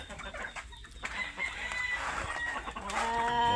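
Chickens in a backyard coop kept for breeding, with a rooster crowing and hens clucking nearby in a continuous busy chorus of calls, loud and close.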